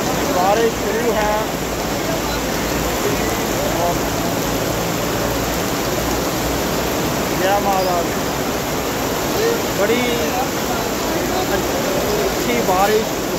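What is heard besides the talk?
heavy rain pouring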